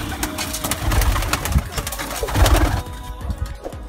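High flyer pigeons cooing close by, soft repeated low coos mixed with flutters and shuffling noises, fairly loud and continuous before quieting near the end.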